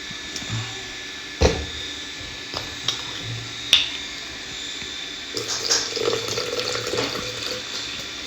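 Electrolyte drink mix is poured into a container of water around a gym workout. A few scattered clicks and taps come first, then a close, bubbling pour and splash fills the last few seconds.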